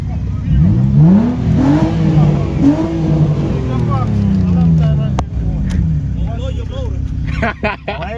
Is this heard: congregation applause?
no